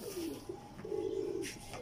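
A pair of Teddy pigeons gives soft, low cooing, with a couple of short murmured coos close by but faint, in an otherwise quiet space.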